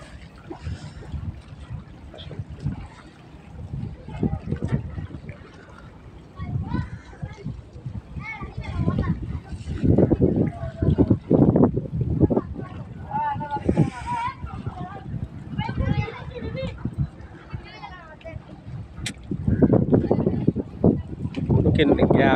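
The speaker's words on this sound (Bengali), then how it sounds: "একটা স্পিড বোট আসতেছে" A speedboat passing on the river near Dangarchar in Karnaphuli Upazila, Chattogram, gives a rising and falling engine drone that swells toward the end, heard under people talking nearby with wind across the microphone.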